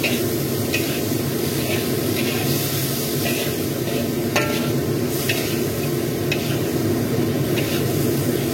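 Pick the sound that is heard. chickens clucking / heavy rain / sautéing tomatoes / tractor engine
sautéing tomatoes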